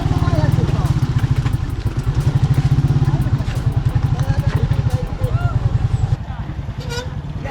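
A motorbike chugs along an off-road track in Davao Oriental, Philippines, with its engine thumping in a loud, steady, close rhythm throughout and a few rattles over the top, while a voice speaks in the background.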